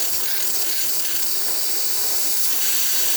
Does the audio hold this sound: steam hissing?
yes